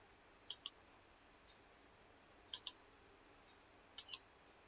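Computer mouse clicking in spreadsheet-style software, three pairs of quick, crisp double clicks spaced a couple of seconds apart over faint room hiss, no talking.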